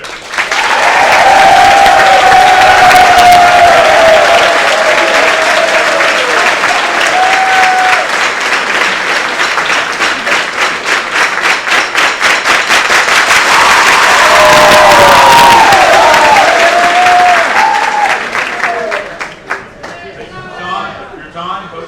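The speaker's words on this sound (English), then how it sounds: "let's get another round of applause for everybody up here" Loud, sustained applause from a large audience at an evening assembly, with clapping that swells, rises into cheering and whoops, then thins into scattered claps and fades toward the end.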